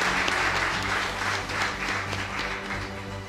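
A crowd applauding itself at the finale of a youth talent show in Côte d'Ivoire, steady dense clapping throughout, loud and sustained with no voices over it.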